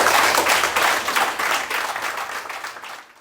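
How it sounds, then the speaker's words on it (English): An audience applauding cadets, a dense burst of clapping that is loud at first and tapers off over about three seconds. "let's give the cadets a big round of applause"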